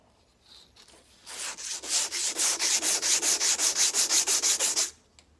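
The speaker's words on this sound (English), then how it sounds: "There's a few high spots on this side, so I'm just gonna take my time, slowly sand." A wooden tool handle being sanded by hand to take down high spots, a fast run of about twenty even back-and-forth rasping strokes, close and loud, starting and stopping abruptly.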